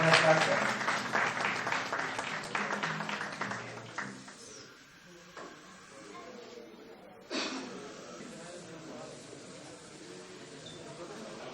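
Audience applause and clapping at the launch of a voters' party, a dense burst of many hands for the first four seconds that fades, then a softer renewed spell of clapping with voices in the crowd.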